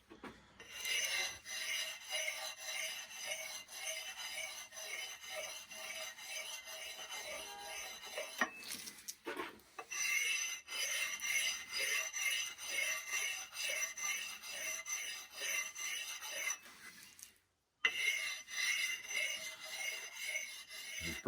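A knife edge being finished on a dry sharpening stone with no oil, giving a steady, close raspy scraping in long continuous strokes with a couple of brief pauses.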